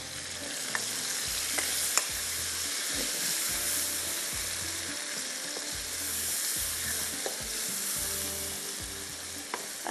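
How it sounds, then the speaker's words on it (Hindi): Spices being fried in a pan for a paratha recipe, a constant bright sizzle with occasional soft stirring clicks and scrapes, close and steady throughout, no voices. "पहले इसको थोड़ा सा हम मसाले को भूनेंगे।"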